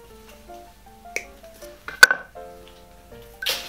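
A sharp metallic snip of pliers cutting bonsai wire for a juniper rings out mid-clip, with faint clinks before it and a brushing rustle at the end, against quiet background tones.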